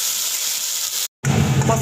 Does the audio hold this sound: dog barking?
no